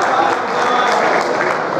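Audience applause at a mushaira poetry gathering in Riyadh, a brief, dense, steady wash of clapping from a crowd.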